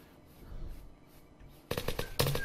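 Quiet background in the game Unturned gives way to a sudden burst of rapid gunfire, several sharp shots in quick succession near the end.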